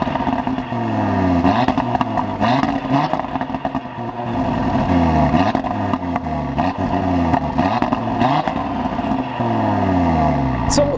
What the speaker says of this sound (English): have a quick listen to the rather aggressive and delightful exhaust note